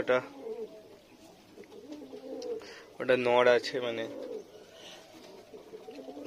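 Fantail pigeons cooing in a loft, soft throaty coos repeating close by, with one louder burst in the middle, as someone talks over them.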